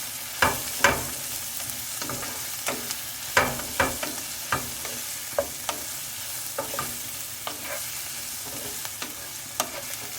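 Spices fry in a pan for baingan bharta, a soft steady sizzle broken by repeated light scraping taps of a utensil stirring, quiet and close.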